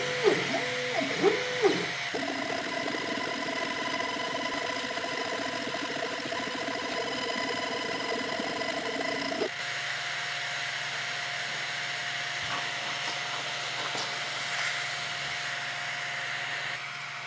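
A Longer Ray5 10W laser engraver runs steadily, a constant mechanical whir and tonal hum that shifts pitch partway through, with a few brief clicks at the start and no voices.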